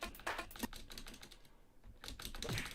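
Someone is pressing the space bar on a computer keyboard while playing a Commodore Amiga public-domain game. There is a rapid run of close, crisp key taps, then a short pause, then more tapping.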